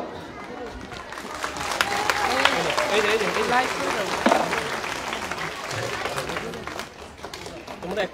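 A crowd applauding to welcome students at a madrasa annual sports event, with sustained rapid clapping swelling and easing over several seconds amid crowd murmur and voices.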